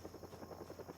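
Helicopter flying overhead in the video game Project Zomboid, a faint, steady rotor chop that pulses evenly and sounds distant.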